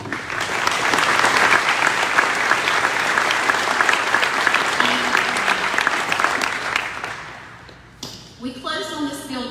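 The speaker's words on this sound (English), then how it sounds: "please stand and be applauded for your work" Committee members are applauded by a large crowd at a building ribbon-cutting ceremony, with dense, sustained clapping filling the room for about eight seconds before fading, followed by a brief burst of voices.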